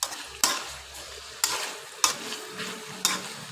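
Boiled bamboo shoots stir-fried in a pan, a soft frying hiss broken by four sharp scraping strokes of a spatula at regular intervals, close and without talk.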